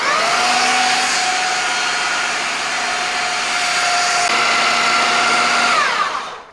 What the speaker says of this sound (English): Now blend it for 1 more minute.